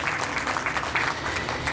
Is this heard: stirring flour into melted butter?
no